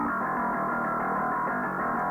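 Isolated mid-range band of a duplicated bass guitar tone, a gargly, filtered midrange sound playing a steady riff with repeating note pulses, close and even, with no voices.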